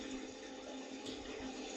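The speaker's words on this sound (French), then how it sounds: "Fallait juste tirer la chasse d'eau" A toilet flushes in a Roblox video game, a short, faint rush of water at low level with no one talking over it.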